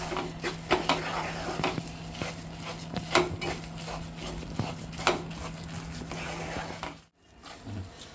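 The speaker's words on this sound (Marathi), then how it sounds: "छानपैकी असं परतून घ्यायचं मंदाच्यावरच सतत असं ढवळत राहायचं" Besan (gram flour) stirred and roasted in a pan over low heat for besan ladoo, giving a run of scraping spoon strokes and clinks against the metal at an uneven rhythm, close and fairly clear, with a steady low hum underneath and no talk.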